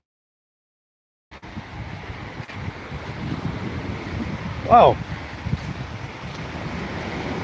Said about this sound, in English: Look at the ocean, guys. Very angry this morning.